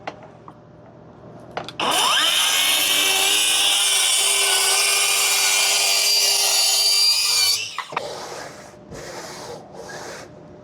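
A wooden router sled on a flattening jig slides along its rails in one long, loud, continuous rubbing scrape, followed by a few shorter, softer strokes back and forth.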